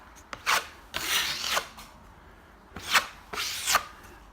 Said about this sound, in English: Light sand, and we're ready to paint.